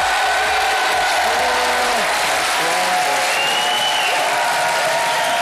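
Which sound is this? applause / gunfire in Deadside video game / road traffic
applause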